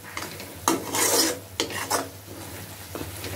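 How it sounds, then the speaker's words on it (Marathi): A utensil scrapes and rubs through onions frying in oil in a pan, giving a few rasping stirring strokes over a low sizzle. "आपण त्यांना थोडा वेळ हलवत राहायचं आहे. आपला कांदा इथे भाजतो आहे."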